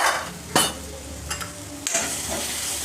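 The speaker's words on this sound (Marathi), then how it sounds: "सर्व व्यवस्थित भाजून घ्या" Drumstick (shevga) sabzi is stirred and roasted with red chilli powder in a pan over a low flame. A spoon scrapes sharply a few times over a constant close sizzle.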